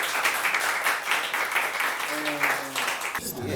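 A crowd at a tech talk conference claps for a speaker, a dense, steady patter of applause throughout, with a voice briefly rising over it near the end.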